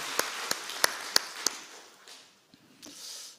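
A church congregation during a Sunday worship service gives a brief burst of applause, a few sharp separate claps in quick succession that fade into quiet room noise.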